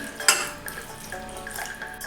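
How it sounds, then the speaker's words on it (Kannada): Water is poured into a pan of simmering black-eyed peas, making a brief splash and trickle close by that soon settles into a softer bubbling wash. "ಸ್ವಲ್ಪ ನೀರು ಹಾಕ್ತಿದ್ದೇನೆ."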